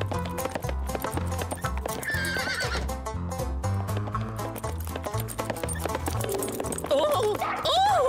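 A cartoon horse whinnies and hooves clop over busy background music, with the neigh rising clearly near the end.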